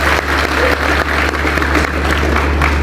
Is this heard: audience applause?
yes